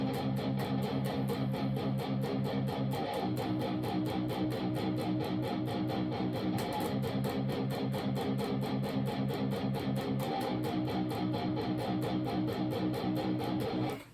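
Heavily distorted electric guitar tuned to drop B chugs through a riff, dense and relentless with driving drums behind it, loud and continuous for the whole stretch with no talking.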